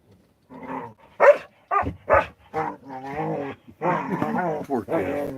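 A blind, deaf puppy makes a run of close, varied yips, whines and little bark-like cries in quick bursts, one after another.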